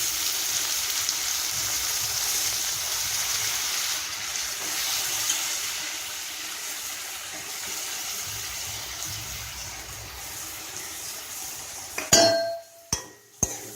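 Raw banana pieces fry with onions in a pan, a steady close sizzle that runs for a long stretch before a few sharp clinks of a utensil stirring against the pan near the end.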